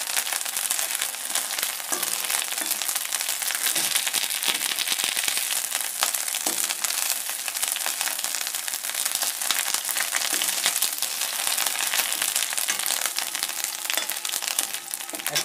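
Dry red chillies, bay leaves and cumin seeds frying in hot oil, a dense, loud, steady sizzle and crackle that runs unbroken throughout.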